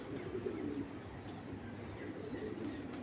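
Racing pigeons coo in low, rounded murmurs that repeat steadily, close and fairly faint over a constant room-like background.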